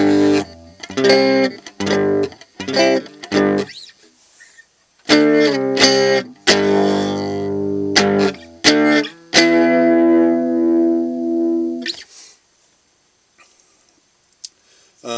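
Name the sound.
electric guitar breaking up through TC Booster LineDriver pedal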